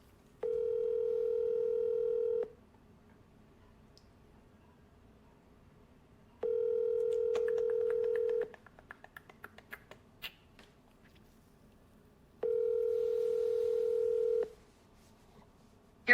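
An outgoing phone call to an insurance lead rings out: three long, steady ringback tones, each about two seconds, are evenly spaced by roughly four-second gaps. Faint tapping is heard between the tones.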